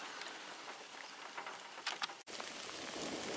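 Soft rain patters steadily on a surface, with occasional louder drips and a brief dropout partway through.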